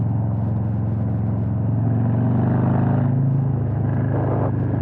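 A Harley-Davidson Road King Special motorcycle engine runs steadily and close, a deep, even V-twin rumble that swells slightly midway and carries on without a break or any voices.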